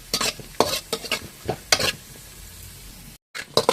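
Vermicelli (shavige) roasting in a pan over a raised flame for payasam: sharp, rhythmic stirring scrapes over a gentle sizzle, close up, with a brief dropout near the end.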